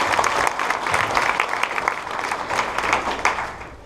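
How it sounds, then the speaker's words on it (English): Audience applause for Reynold Xin at a Big Data Day LA keynote, dense continuous clapping from a sizable crowd, steady and fairly loud for the whole stretch. "let's give a round of applause for Reynold"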